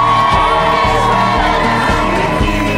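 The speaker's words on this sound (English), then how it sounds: "Make this your loudest cheer tonight" Wedding guests roar and cheer for newlyweds Lauren and Brayden, Mr. and Mrs. Kane: a loud, dense, sustained crowd noise with a steady low thumping beat beneath it throughout.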